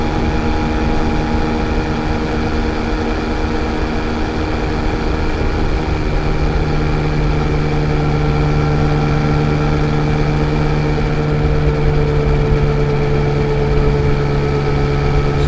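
Yamaha XSR900 25th Anniversary four-cylinder motorcycle engine droning steadily while riding, with continuous loud tonal hum and wind, no speech.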